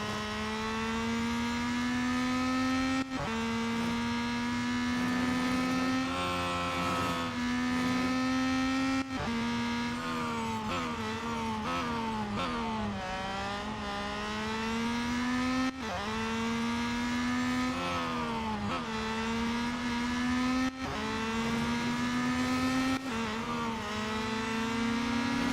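A race car engine in the mobile racing game Real Racing 3 drones steadily at high revs, rising and dropping in pitch with each gear shift and corner across a sustained, loud lap, with no talk over it.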